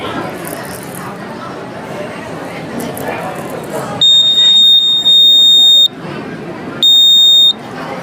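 A flame sensor on a student-built rescue robot at a school science exhibition sets off a loud steady electronic buzzer in two bursts, the first about two seconds long and the second shorter, over a crowded hall's murmur.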